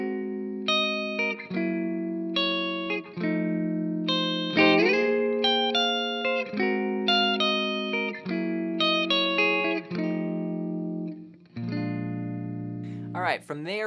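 An electric guitar plays the intro of a blues song, picking bluesy single notes and chord stabs in a steady rhythm, close and clear with light effects and no talking.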